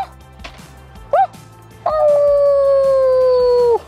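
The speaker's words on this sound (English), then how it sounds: "Sometimes it's hard when your dog's howling." A dog howls in two parts: a short rising yelp, then a long, loud, sustained howl that slowly drops in pitch and carries on for nearly two seconds, with no talking over it.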